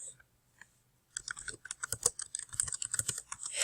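Rapid typing on a computer keyboard, close clicking keystrokes starting after a second of near silence and continuing steadily, no talk.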